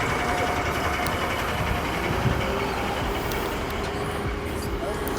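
A Porsche engine idles with its factory Sport exhaust, a steady, continuous low rumble that holds level throughout without revving.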